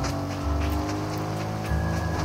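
A car in Fortnite drives along with a steady engine drone that dips and then surges again, loud and continuous with no talking.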